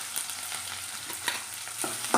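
Green chilli and onion sauté in a hot pan with a steady close sizzle. Soft stirring scrapes and taps break through now and then over about two seconds.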